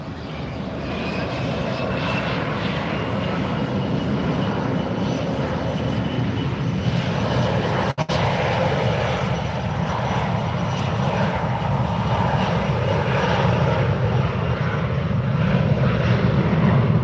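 Douglas DC-3 propeller airliner at Fort Lauderdale taking off, its piston engines holding a loud, steady, throaty roar for the whole stretch, with no voices over it.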